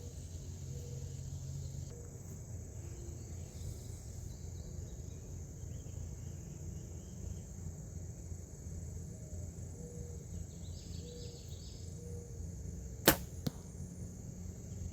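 An arrow shot outdoors strikes a Rhinehart 1/3 scale moose archery target that is wet from rain, landing as a single sharp snap near the end against a steady background of crickets and insects.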